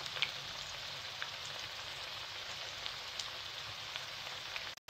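Leftover rice pakoda made with vegetables frying in hot oil, a steady close crackling sizzle with scattered pops throughout, no talking.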